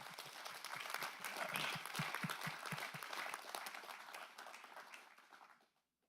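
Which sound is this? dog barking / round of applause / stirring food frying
round of applause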